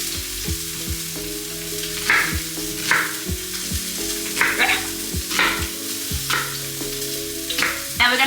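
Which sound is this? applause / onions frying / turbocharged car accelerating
onions frying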